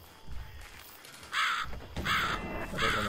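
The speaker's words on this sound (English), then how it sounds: "Bird." A bird caws in the survival video game Sign of Silence: three loud, harsh crow caws in steady succession after a quieter opening, with no speech.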